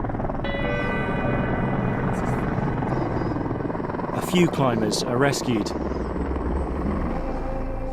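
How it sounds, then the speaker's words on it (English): A rescue helicopter flies over Mount Everest after a deadly earthquake, its rotors a steady, loud, droning thud throughout, while a voice talks over it partway through. "It's 24 hours before we see our first helicopter."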